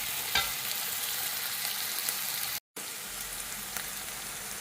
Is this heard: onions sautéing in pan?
yes